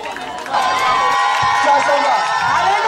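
A church congregation at a harvest festival erupts in loud, sustained cheering and shouts of acclamation, a dense crowd roar rising after a brief quieter start and holding steady.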